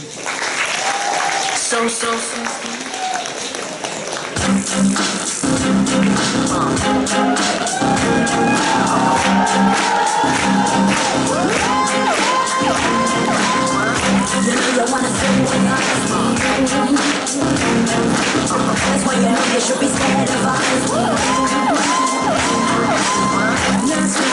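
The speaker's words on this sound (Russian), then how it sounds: "Так давайте поприветствуем их бурными аплодисментами." An audience gives loud, sustained applause with cheering, whoops and shouts for girls performing on stage. The clapping starts thin, then swells into a thick, continuous roar that fills the room for about twenty seconds.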